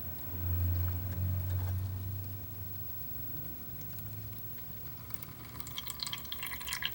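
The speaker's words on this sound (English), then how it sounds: "That's the water flowing down into the basin at the bottom, I guess." Water trickling and dripping down into the bottom reservoir basin of a Lechuza Pon self-watering planter holding a freshly potted Maranta, a soft, close, steady flow with faint drips.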